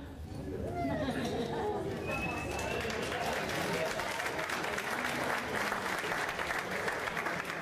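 Audience applause at a Manchester United dinner, a sustained roomful of clapping from seated guests with chatter and a voice beneath, fairly loud and continuous.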